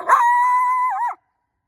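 An old coyote with badly worn teeth, caught in a spring trap, gives a single loud, close howl that holds a steady pitch for about a second and then wavers and breaks off into silence.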